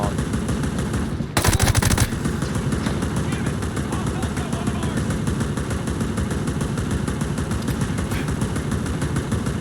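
Turret gunfire in Ghost Recon Breakpoint, a steady loud automatic stream of rapid shots that runs unbroken throughout, with a brief louder burst near the start and an engine-like drone underneath.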